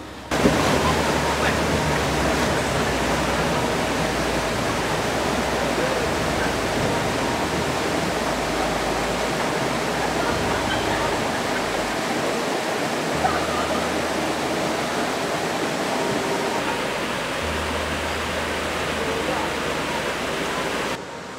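A river rushes in a steady, dense roar throughout a vehicle crossing, the water loud and close, with a low engine rumble shifting underneath.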